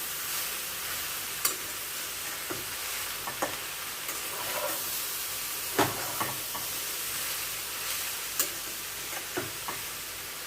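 Soya mushroom keema masala with tomato and onion fries in a pan over low heat, giving a continuous bright sizzle with scattered clicks and scrapes of a spatula, no voices.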